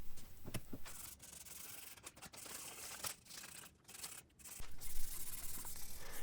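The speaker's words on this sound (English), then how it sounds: "we can do some final sanding." Steady rasping strokes of sandpaper rub back and forth on wooden plant stand pieces, close and continuous with brief pauses between passes.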